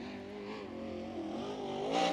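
A USAC sprint car, number 17 with a crate engine, circles Bloomington Speedway on its opening lap, a faint, distant engine drone whose pitch slowly rises and falls before swelling near the end.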